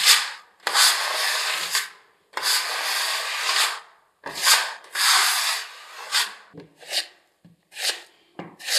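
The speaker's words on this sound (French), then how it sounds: "Petit couteau ici, lame de 10. Un petit coup de chiffonnette microfibre." Short bursts of cloth rubbing across the 10 cm blade of a filling knife, a microfiber rag wiped in several quick strokes with brief pauses between them, close and fairly loud.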